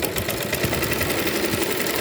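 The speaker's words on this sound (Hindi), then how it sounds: "ऊपर योक की तरफ सिलाई लग रही है" A sewing machine stitches the top seam along the yoke of a nightie, giving a steady, loud, rapid mechanical whirring hum that runs continuously and alone.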